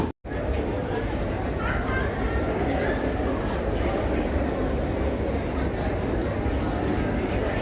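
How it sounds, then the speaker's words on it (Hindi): The Howrah–Barmer Express (12323) rolls into platform 13 at Delhi station under Northern Railway, a steady, loud rumble of wheels on rails with faint squeals and distant platform chatter throughout, after a brief cut at the start. "ये अपनी हावड़ा बाड़मेर एक्सप्रेस दिल्ली स्टेशन में प्रवेश करती हुई 13 नंबर प्लेटफॉर्म पे"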